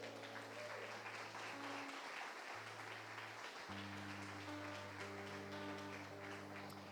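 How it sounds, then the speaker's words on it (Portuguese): Steady applause fills a church as a congregation claps for the Lord at a service, a faint even wash of clapping running throughout while sustained organ or keyboard tones sound over it. "aplauda o Senhor, irmãos"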